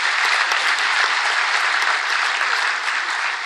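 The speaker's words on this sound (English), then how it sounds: "ask you to applaud your guests" Sustained, dense applause from a large audience at an Irish citizenship ceremony in Dublin, steady and even from start to finish.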